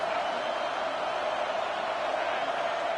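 Football stadium crowd during a game, a broad steady roar of cheering and noise filling the background without pause, with no clear speech on top.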